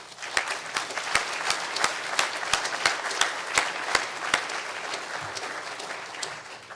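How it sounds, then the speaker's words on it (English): An audience at the 2010 Spokane Fire Department awards ceremony claps for Mike, a retired firefighter. The applause is moderate and steady, with sharp individual claps standing out in an even rhythm for several seconds. "So a round of applause for Mike."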